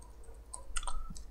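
Sparse keyboard clicks as someone types a Django manage.py command, a few light taps close and quiet over a low steady hum, with no voices.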